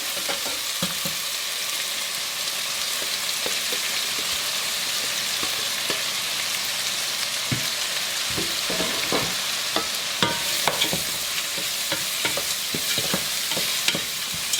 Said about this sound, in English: now I'm gonna fry this on a medium heat